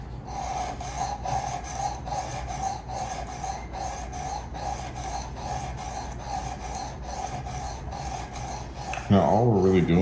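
A knife is sharpened on a 240 grit stone in a Work Sharp Precision Adjust, a steady close-up rasping of rhythmic strokes that runs for about nine seconds, followed by a brief louder scrape at the end.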